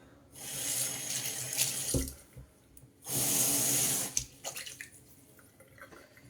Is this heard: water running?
yes